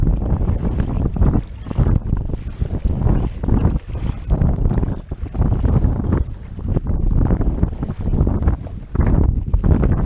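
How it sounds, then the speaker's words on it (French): Steady headwind roars across the microphone on a Hobie Mirage Revolution 13 pedal fishing kayak, a continuous buffeting rush with faint splashes of water beneath it. "J'ai le vent de face."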